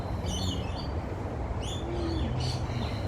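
Birds chirp and call in scattered short bursts from a mulberry tree after a storm, with soft cooing mixed in over a steady outdoor background hiss.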